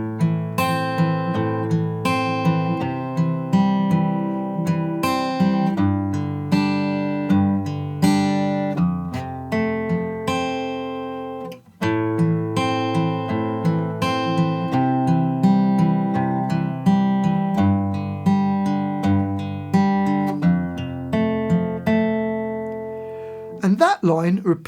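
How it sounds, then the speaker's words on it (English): Fingerpicked guitar plays the verse of a song, a steady flow of picked notes and ringing chords heard up close and alone, with a brief break about halfway through. "Okay, so the whole of that verse sounds like this."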